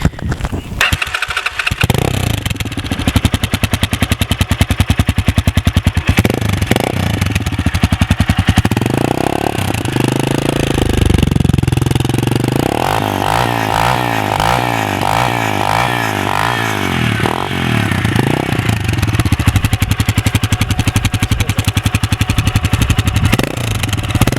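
A Lifan LF150-2e motorcycle engine with a new aftermarket muffler runs loud and close, revving and settling into a deep, bassy idle with rhythmic throbbing pulses midway.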